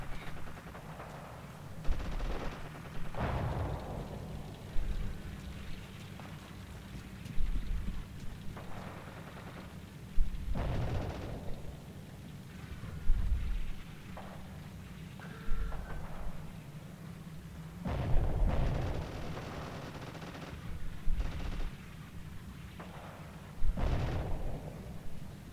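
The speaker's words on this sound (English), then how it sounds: "And I spawn into a mortar." Mortar explosions and scattered gunfire sound during Falaise Pocket gameplay in Forgotten Hope 2, a World War II video game, with repeated heavy blasts and sharp bursts arriving every few seconds over a low, continuous battlefield rumble.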